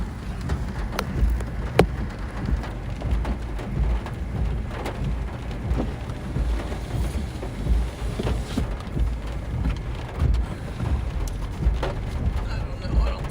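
Heavy rain pours steadily in a Kansas storm that carries hail, a dense, continuous wash of noise with scattered sharper impacts and low rumbles throughout, close and loud with no voices.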